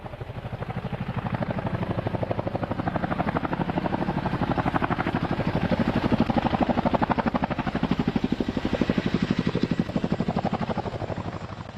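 Marine One, a presidential helicopter, settles onto a lawn with a loud, steady rotor chop throbbing evenly throughout, the engine whine and blade thump close and constant with no voices over it.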